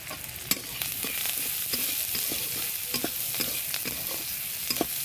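Whole cumin and radhuni spice crackle and sizzle steadily in hot oil, with scattered sharp pops and light stirring scrapes close by.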